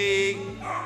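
A dog gives a short yipping bark during a Canine Games obedience competition, a single close, brief, high whining bow-wow, with a voice talking over it.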